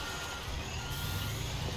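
Truck reversing beeps from the Construction Sim video game, set on a spaceport expansion build: a steady, fairly quiet alarm repeating over a continuous engine rumble, with no talking.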